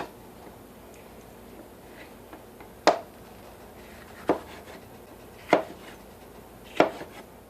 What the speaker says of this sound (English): slice them into about 1/2 inch to 3/4 inch slices